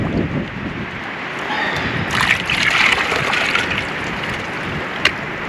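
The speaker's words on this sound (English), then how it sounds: "Now I'm just going to let the water lap up about here because the good stuff's trapped up in here." Water sloshing and splashing in a gold pan while black sand is panned at a creek in Pinos Altos, New Mexico, with a steady close wash of water and a sharp knock near the end.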